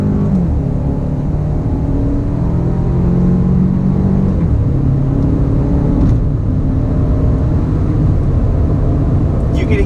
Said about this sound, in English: they pump some sound through the speakers to give it a little bit more engine noise compared to, say, comfort mode